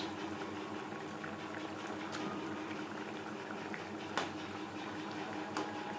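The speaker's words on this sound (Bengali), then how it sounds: "গ্রেভি বেশ ভালো করে ফুটতে শুরু করে দিয়েছে" Tomato gravy for a chela fish curry bubbles at a steady low boil in a pan, a soft continuous simmer with faint pops, quiet and without any voices.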